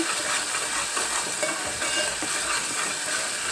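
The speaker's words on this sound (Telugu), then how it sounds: "ఇలా బాగా కలపాలన్నమాట కలిపితే నూనె బాగా ఉడుకుతుంది అన్నమాట" Ground keema curry stirred through hot oil, a steady close sizzle of frying under continuous scraping and stirring, with no talk.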